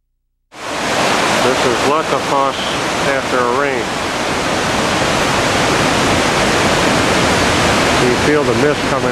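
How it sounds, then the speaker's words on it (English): A waterfall rushes nearby as a steady, loud wash of broadband noise that starts abruptly and continues unbroken, with a voice faintly audible over it early on. "Feel the mist coming off the waterfall."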